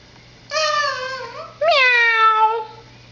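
A young child imitates a cat's meow, two drawn-out, high-pitched vocal meows in quick succession, close and clear against a quiet room.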